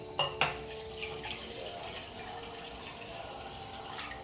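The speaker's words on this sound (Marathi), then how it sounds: "आता हे उरलेलं पाणी" Water splashes and trickles into a metal pot of chicken cooking over a gas flame, with a couple of clanks at the start and a steady wet pour continuing.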